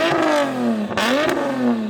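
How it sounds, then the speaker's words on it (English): A heavily modified Nissan GT-R revving hard before a launch, loud and close, the engine climbing and falling in sweeping pitch bends with a brief dip mid-rev. "I'm going to rev up this beast of a machine."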